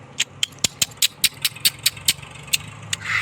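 A tractor engine at a rural home, heard as a low steady idle with a sharp rhythmic knock or rattle repeating about every quarter second, close and moderately loud, with no talking.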